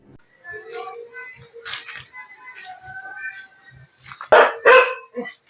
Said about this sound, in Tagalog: May alaga pa silang aso.